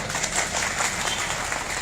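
Steady applause from a crowd, a continuous dense patter of clapping at moderate volume with no pauses.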